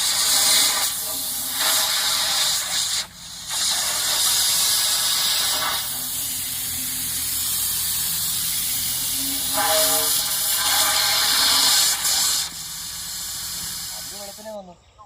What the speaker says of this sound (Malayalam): ഇത് കുഴിക്കകത്തെ കല്ലും മണലും ഈ വെള്ളമെല്ലാം പറപ്പിച്ച് കളയുന്ന എയറടിച്ച്